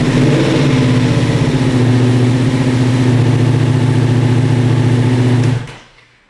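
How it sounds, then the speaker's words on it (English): A Ducati Multistrada V4 motorcycle engine runs loud and close in a steady idle with a deep rumble, then cuts off abruptly near the end; no one speaks. "I'm gonna give the bike a start before and a start after just so you can hear the starter and how quickly it turns over"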